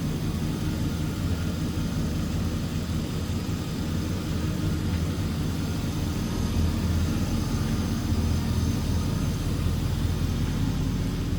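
A 2003 Chevrolet Silverado 1500 LS Stepside 4x4 with a Vortec 4.8 V8 and a K&N cold air intake, running smoothly: a continuous low, steady rumble with no talking.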